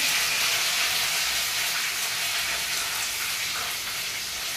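Curry leaves crackle and sizzle in very hot oil in a kadai, a loud, dense, steady frying hiss that fills the whole stretch with no voices over it.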